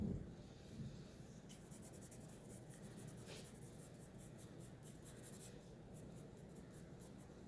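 A pencil shades across paper in quiet, close scratchy strokes, with a run of quick rhythmic back-and-forth marks in the middle and softer rubbing before and after.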